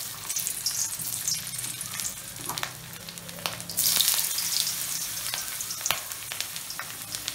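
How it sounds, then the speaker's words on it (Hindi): Potato pieces shallow-frying in hot oil for aloo do pyaaza, a steady broadband sizzle throughout with occasional brief crackles and a louder burst of spitting midway, close and fairly loud, no talk. "हम इसे शैलो फ्राई करने के बाद क्रिस्पी करके निकाल लेंगे"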